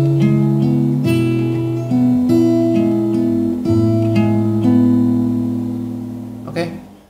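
Guitar playing the riff from a Vietnamese song at a faster tempo, clear picked notes moving in a quick repeating pattern, close and prominent, ending with a brief scrape.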